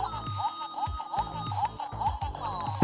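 Rapid electronic beeps and chirps from a tiny $4 desk whack-a-mole console as its buttons are hit in quick succession, a steady run of short tones with a busy, cluttered rhythm and no voices.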